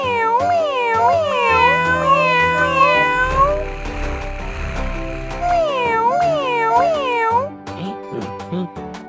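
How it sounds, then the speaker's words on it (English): A cat meows repeatedly in loud, rising-and-falling cries, two long bursts separated by a short pause, close and clear. "Cat. Cat."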